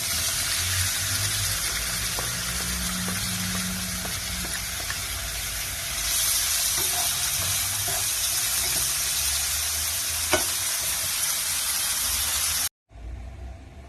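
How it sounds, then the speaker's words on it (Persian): Bell pepper sautéing in a pan makes a steady broad hiss and sizzle that holds for about twelve seconds with a few faint clicks, then cuts off abruptly. "فلفل هم یه تفت کوچیک، خیلی تفت نمیدیم"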